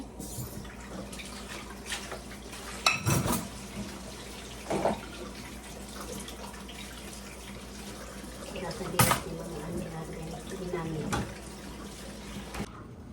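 Dishes are washed under a running kitchen tap, a soft steady stream of water broken by several sharper clinks and splashes as items are handled.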